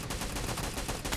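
Dense, continuous gunfire from a video game, shots blurring into a loud, steady barrage with no clear gaps across the short stretch.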